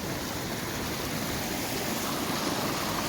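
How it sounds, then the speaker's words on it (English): Floodwater after heavy rain in Nairobi rushes along in a steady, broadband wash, a continuous close roar of flowing water with no pauses and no voices. "look at how water is flowing here"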